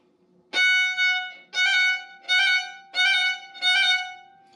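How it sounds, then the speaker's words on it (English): Five separate bowed violin notes, each opening with a quick flick of the note above, evenly spaced, clear and close, in a fiddle lesson on the Swallowtail Jig. "a flick is when you just flick the note above."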